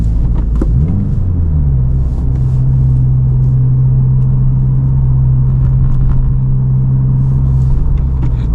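A deep, steady exhaust rumble from a 2023 Subaru WRX with an AWE Track Edition exhaust idling close by, with a brief rev near the start before settling into a constant low drone.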